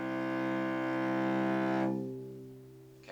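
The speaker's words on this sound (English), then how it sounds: "that's the lowest string" A single low bowed note on a cello's lowest open string sustains steadily, rich in overtones, then is cut off and fades into quiet near the end.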